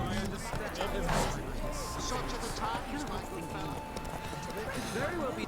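Roach the horse gallops in The Witcher 3, rapid rhythmic hoofbeats drumming steadily throughout, with someone talking over the game sounds.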